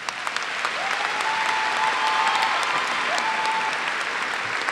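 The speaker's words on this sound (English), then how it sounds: "A round of applause," An audience at a university undergraduate commencement breaks into sustained applause that swells and holds evenly, with a faint held tone running through the middle of the clapping.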